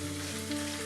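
Salt-marinated chicken sizzles in hot oil with garlic ginger paste, a close, steady hiss that runs for under a second.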